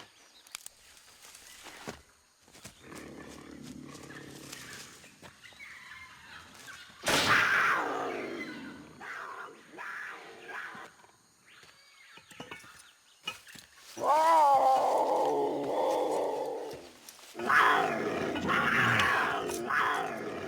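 A genetically altered jaguar growls low and grunts in uneven bursts, then lets out several loud, close roars that rise sharply and fade, with brief quiet gaps between outbursts.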